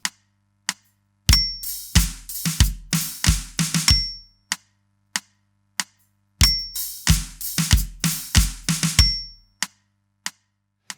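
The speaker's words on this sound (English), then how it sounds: "So that bar, if we slow that down to 94 BPM," A drum kit plays a transition bar at 94 BPM, with bass drum, snare and hi-hat in a clear, close groove; sparse hi-hat ticks lead into a busy fill pattern played twice, separated by a brief pause.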